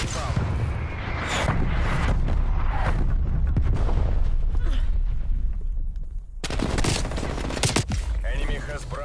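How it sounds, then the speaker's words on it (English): An artillery strike in the video game Call of Duty Cold War brings dense, continuous bursts of booming fire and gunfire, loud and close, with a short lull before more blasts and a voice heard amid the noise. "Artillery inbound."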